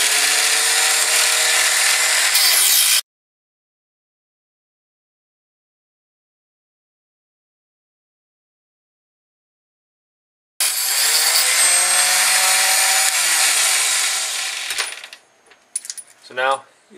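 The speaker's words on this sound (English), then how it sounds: "I'm going to use my Harbor Freight chop saw with a jig and we'll get these trimmed up here." A Harbor Freight chop saw with a jig trims formed brass rifle cases for a 277 Wolverine, loud whining cutting bursts separated by a long silence, with small clinks of brass at the end.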